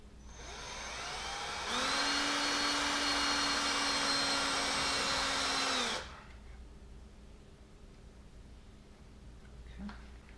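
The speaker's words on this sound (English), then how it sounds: "we'll start drilling." A power drill bores a hole into a Chevy Colorado ZR2 for a light bracket, a steady high-pitched whine with a rising start that runs about four seconds before cutting off, leaving a quiet background.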